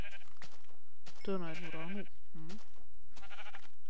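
A sheep in Minecraft bleats once, wavering and loud, then gives a short second bleat, while someone speaks briefly before and after.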